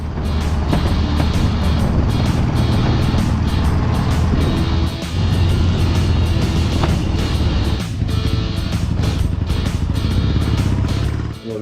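A Dnepr K750M motorcycle engine runs loud and close, a continuous rough throbbing idle with mechanical clatter that holds steady throughout.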